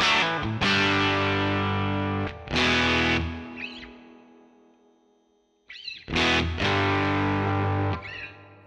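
An electric guitar plays through a high-gain model on a Yamaha THR10C practice amp, giving thick, distorted sustained chords. Three strums each ring out and decay, with brief squealing overtones between them.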